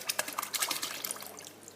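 Wet thread pulp from a liquidizer poured into a water vat for papermaking, a soft splashing trickle with irregular drips, fairly faint and fading toward the end.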